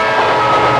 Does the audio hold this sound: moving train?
yes